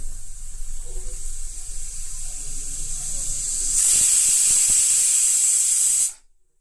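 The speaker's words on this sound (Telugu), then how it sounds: "ఇప్పుడు సిమ్లో నాలుగు విజిల్స్ రప్పిద్దాం చూడండి సిమ్ చేశాను" A pressure cooker sits on a low flame with its cooking rumbling quietly at first. It then breaks into a loud, steady jet of hissing steam that holds for a couple of seconds before cutting off abruptly.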